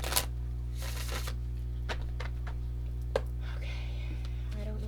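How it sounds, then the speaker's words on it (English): Tarot cards are shuffled in a few quiet, scattered riffling bursts over a steady low hum, close and soft, with no talk. "I don't know why I'm shuffling tarot"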